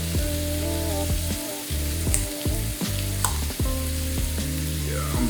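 Impossible plant-based taco meat frying in a pan, a loud, close, continuous sizzle with crackles and occasional stirring scrapes, no voices.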